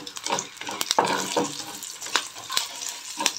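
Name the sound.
turmeric added to hot oil, sizzling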